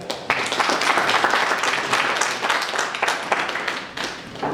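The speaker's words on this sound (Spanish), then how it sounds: "a mi compañera Luque Condori Viviana, a la cual recibiremos con un fuerte voto de aplauso." Audience at a university law debate in Juliaca applauds to welcome a participant, a dense, steady burst of many hands clapping with a few brief dips in the flow.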